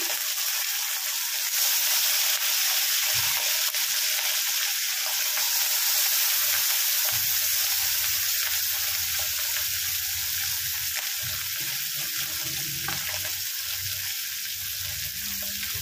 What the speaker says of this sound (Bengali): মাছ খুব সাবধানে ভাজতে হয়